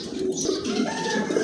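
A pair of mealy bar pigeons coo softly and continuously nearby, a low, gentle, rolling call heard alone against faint background noise.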